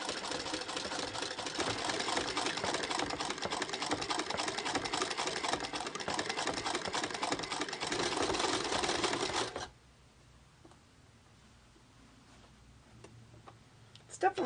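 A hand-cranked sewing machine from around 1918 rattles and ticks continuously for about nine seconds, close and fairly loud, then stops, leaving quiet room noise and a few faint clicks.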